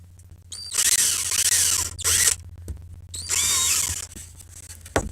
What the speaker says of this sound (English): Yeah, drill sander.